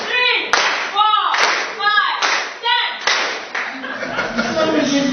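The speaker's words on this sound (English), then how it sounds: "So one clap for her." An audience claps together in unison at a management visit gathering, several distinct sharp group claps in a counted rhythm, with a voice talking and some chuckling afterward.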